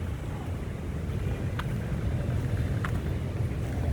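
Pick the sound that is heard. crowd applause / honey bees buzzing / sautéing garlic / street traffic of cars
street traffic of cars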